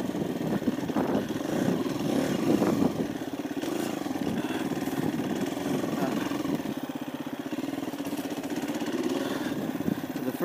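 A KTM dual sport motorcycle rides through urban terrain in second gear, its engine droning steadily and loud up close with slight surges in throttle and a rough, buzzing tone throughout.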